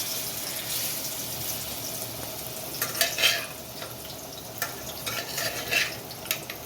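Tuna (choora) pieces fry in hot oil, giving a steady high sizzle with a few louder crackling bursts toward the end, close and alone with no talk.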